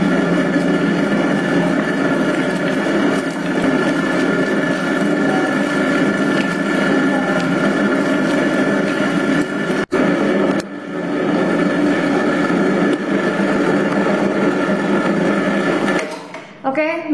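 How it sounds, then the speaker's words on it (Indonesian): Dough mixer machine kneading bread dough with butter and salt, a loud steady motor whir and churning drone that runs unbroken, dips for a moment midway, then cuts off near the end. "Oke, mesinnya saya matikan, adonannya sudah kalis."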